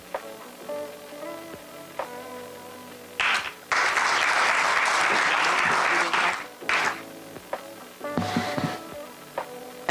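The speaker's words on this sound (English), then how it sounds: "Please give him a huge round of applause" Loud burst of applause from a crowd at a school alumni reunion, swelling for a few seconds then fading, with a second shorter round of clapping near the end.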